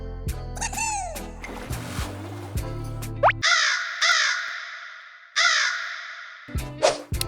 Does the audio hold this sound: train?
no